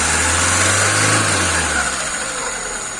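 A car engine fitted with a rebuilt Solex carburetor runs on choke, a steady close idle with a deep low hum that eases slightly toward the end.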